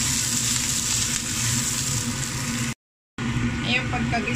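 Fried tofu and chili pepper sauté in a pan with a steady, dense sizzle throughout, briefly cut by a gap, while someone talks over the cooking.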